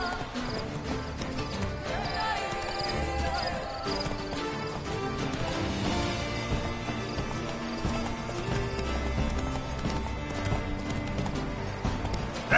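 Horse galloping in The Witcher 3 video game, steady clip-clop hoofbeats with an occasional whinny under a continuous bed of game music and ambience, moderately loud throughout.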